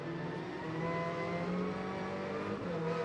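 A race car runs through the Guia circuit during the Macau Grand Prix, its engine holding a loud, steady, droning whine throughout.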